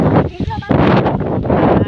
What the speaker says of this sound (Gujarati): પવનનો અવાજ ફૂલ આવતો હે. પવન છે બહુ જ નો.